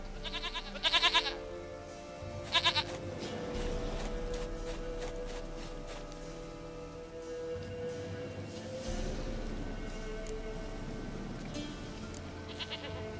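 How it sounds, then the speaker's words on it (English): Goat bleats from The Witcher 3 video game: two sharp, loud calls near the start, then another bleat around the two-second mark, all over a steady ambient game soundscape with a low drone. "Goat of mine, dearest, sweetest goat."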